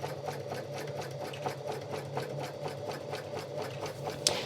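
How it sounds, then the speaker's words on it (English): A sewing machine stitches scrap fabric for a tote bag, running with a fast, even mechanical whirr and rapid needle ticks, close and steady throughout, with a brief sharp click near the end and no talking. "I'm going to stitch around it because we're going to add our straps on next"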